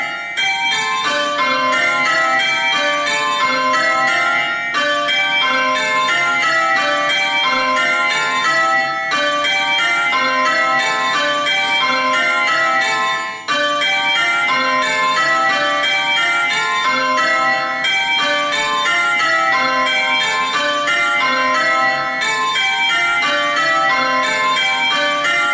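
Simulated church bells on Abel software ring a plain course of Julie McDonnell Slow Course Minor, six bells striking in steady, evenly spaced rounds of changes, clear and continuous throughout.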